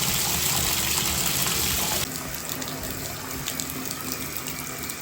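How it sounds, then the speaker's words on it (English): Water runs steadily from an old bathtub tap, a loud continuous hiss and splash that drops to a slightly quieter, steady flow after two seconds. "Let's start off with the middle one with"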